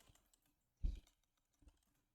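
A few soft keystrokes on a computer keyboard, one firmer press standing out among faint scattered clicks, close by and quiet.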